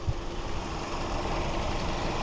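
A 2.0-liter four-cylinder engine in a 2024 Kia Forte LXS idles with a steady, even mechanical hum and light rattle, heard close up and alone without talk.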